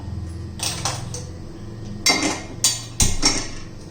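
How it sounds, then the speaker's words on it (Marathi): A heavy iron griddle set down on a stove to heat with a handful of sharp metallic clanks and knocks, close by, separated by brief pauses. "आता आपण तव्यावर तवा गरम करण्यासाठी ठेवूया"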